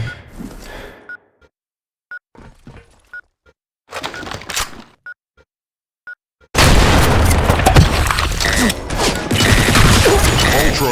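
Grenade and bomb blasts in the online shooter Blackshot, with sharp bursts early on, then a long, loud, sustained roar of explosions and gunfire filling the second half, close and dense.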